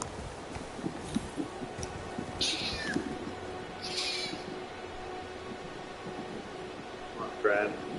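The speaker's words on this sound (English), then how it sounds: "You might hear my cat meow." A house cat meows several times indoors, short cries scattered across the stretch, moderately near, with a person talking over and between them.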